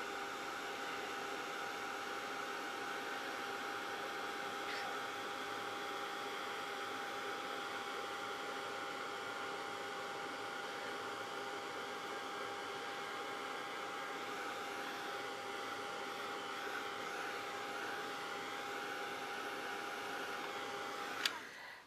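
A heat gun blows hot air in a steady, even roar that holds for the whole stretch, with a brief click near the end before it cuts off.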